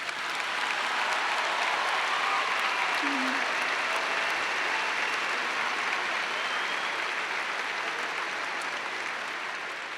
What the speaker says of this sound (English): that's worth a round of applause